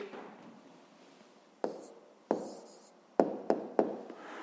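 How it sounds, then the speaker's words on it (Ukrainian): A pen scratching out an answer on paper at a desk during a fifth-grade maths exercise, with a few quiet strokes followed by a quicker run of short taps and scribbles, close and alone. "Ну що ж, записуємо відповідь."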